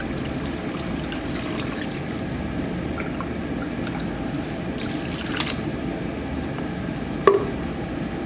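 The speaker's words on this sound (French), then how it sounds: "Le bouillon." Broth pours steadily into a pot of stew with carrots as a continuous watery trickle, close and moderately loud, ending with a faint knock of the container.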